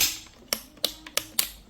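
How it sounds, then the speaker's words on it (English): Tactile plastic switch on an Ikea KRUX LED work lamp clicked five times in a row, sharp close snaps at an irregular pace of about one every third of a second, alone with no talking. "Nice tactile switch."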